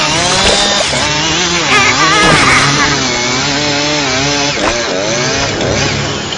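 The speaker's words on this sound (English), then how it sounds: "Here's Zombie. These chainsaws." Zombie chainsaws roar in the video game Frequency Lite, a loud continuous buzzing motor whine that rises and falls in pitch without pause.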